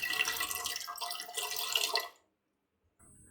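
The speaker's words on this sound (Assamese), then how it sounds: "প্ৰথমে মই এটা কুকাৰত এপোৱা চাউল সিজাবৰ বাবে পানী ঢালি লৈছোঁ।" Water pours into a pressure cooker in preparation for boiling sticky rice, making a loud, splashy stream for about two seconds before stopping abruptly, followed by silence and a faint tail of sound.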